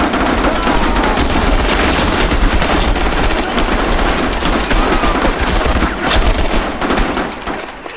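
Rapid bursts of gunfire from students untrained with weapons shooting at North Korean soldiers, a dense, loud, continuous barrage of overlapping shots filling the whole stretch.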